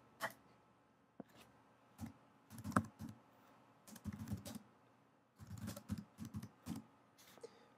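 Typing on a computer keyboard, quiet bursts of rapid clicking keystrokes in uneven clusters with short pauses between, close and soft, with no speech.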